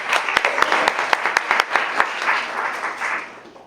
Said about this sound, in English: We're just going to give him a round of applause.